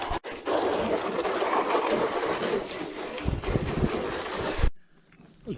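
A steady, loud rush of water sprays against a dusty van during a wash, continuing for several seconds before cutting off abruptly into near silence.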